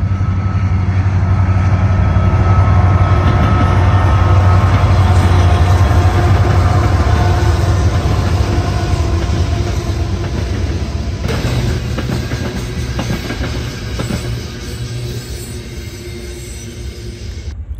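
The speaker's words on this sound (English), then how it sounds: "an eastbound sand train with an SD70 IAC and 2 Canadian Pacific AC-44 CWs for power" An eastbound sand freight train powered by an SD70 and two Canadian Pacific AC-44 locomotives rolls past, its diesel engines droning loud and steady under rumbling wheels and rattling cars, easing slightly as it passes.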